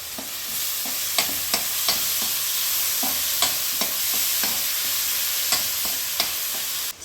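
Food sizzling steadily in a pan for garlic egg rice, with a spatula scraping and stirring in short, repeated strokes over the continuous fry, close and moderately loud, no voices.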